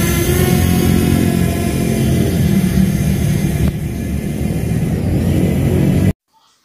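FIMI X8 Mini drone powering up and climbing, a loud steady whir of spinning propellers and motors close by, running continuously for about six seconds before cutting off abruptly.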